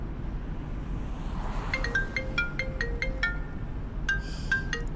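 A mobile phone ringtone plays inside a parked car, a bright repeating electronic melody of short pinging notes starting after a quiet moment, pausing briefly, then resuming, fairly clear over a low background hum.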